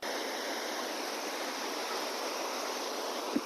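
A waterfall roars in a steady, dense wash of rushing water, close and constant throughout, with no voices.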